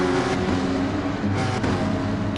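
A Porsche race car engine drones loud and steady through a fast lap in a Porsche Sprint Trophy race, with a sustained high-revving tone throughout and no audible talk.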